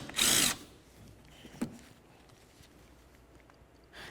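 A power tool spins off a 17mm nut under the wiper assembly of a 2003–2007 Honda Accord, one loud, close burst of about half a second, then near quiet with a faint knock.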